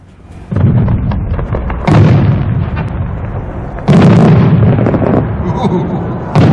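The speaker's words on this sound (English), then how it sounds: "That's 3 breaks that each open to a ring of small reports, to a ring of blue and pink inserts arranged in quadrants," Aerial fireworks shell at a winter club display, bursting in three loud breaks that open into rings of small crackling reports, followed by a bottom shot; the blasts are heavy, close and booming, separated by rolling echoes.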